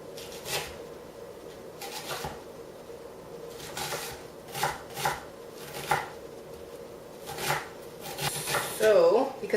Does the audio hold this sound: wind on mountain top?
no